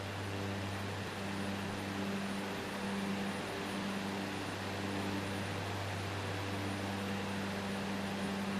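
A de Havilland Canada DHC-6 Twin Otter turboprop drones steadily in a flight simulator, a constant low engine hum with a broad airy whoosh layered over it, unbroken and even in level.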